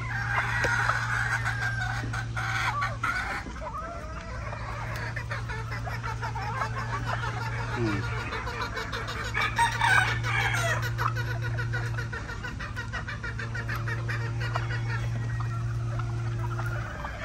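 Chickens cluck and a rooster crows amid a busy outdoor yard, with a steady low hum running underneath throughout.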